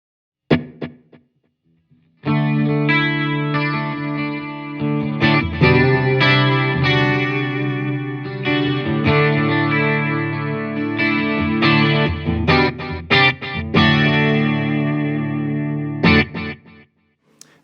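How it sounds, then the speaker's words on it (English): Electric guitar played through a Fender Champion 100XL amp with chorus and delay, strummed chords and picked notes ringing in a shimmering, slightly echoing wash after a brief opening pluck, steady and loud with no voice. "We'll start with chorus and delay in the next position."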